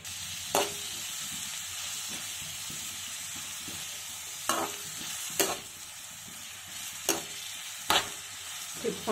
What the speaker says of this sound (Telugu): అడుగు నుంచి ఉల్లిపాయలు మొత్తం కలిసేలాగా గరిటతో కదుపుకుంటూ ఉండాలి.